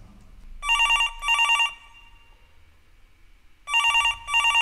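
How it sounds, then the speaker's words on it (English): An outgoing telephone call's ringback tone, two paired bursts of electronic ringing separated by a pause of about two seconds, clear and fairly loud. "I'll try ringing Deansy."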